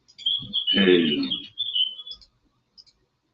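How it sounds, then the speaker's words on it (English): Birds tweet outside in a short burst of high chirps and trills, fairly close and clear, with a brief quiet gap before a faint final call. "Birds are tweeting outside."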